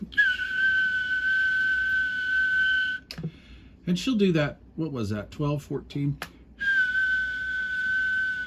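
A steady whistled tone goes into a CB radio microphone, heard twice as sustained, bright pitches at the start and end, with someone talking between them.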